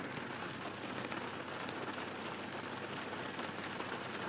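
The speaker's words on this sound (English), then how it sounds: "It's raining here in Rochester," Steady hiss of rain pattering on surfaces in Rochester, New Hampshire, dense and even, with occasional brighter drops standing out; no voices.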